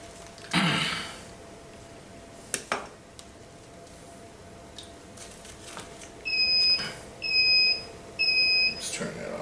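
A sous vide cooker sounds three clear electronic beeps in an even rhythm near the end, each a steady two-tone chirp, after a quiet kitchen stretch with a couple of soft knocks.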